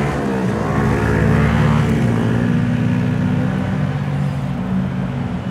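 Heavy engines roar steadily and loudly past on a busy London street, a dense low rumble with harmonic drone that swells and eases slightly, no voices over it.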